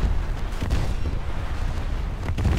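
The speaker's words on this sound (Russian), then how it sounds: "Вот этот линейный крейсер, он не успокаиваясь по мне хреначит" Naval artillery fire in a War Thunder sea battle involving the battlecruiser HMS Renown and its 381 mm guns: a dense, continuous barrage of loud, heavy booms and deep rumbling, with a few sharper blasts standing out and no speech.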